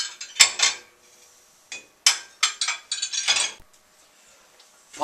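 Plates set into the rack of an Electrolux ESL 6225 dishwasher make close, bright clinks and clatters in short bursts separated by pauses, with no voices.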